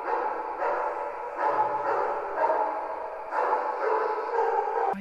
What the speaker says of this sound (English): Why is there a dog out there just barking his shit off?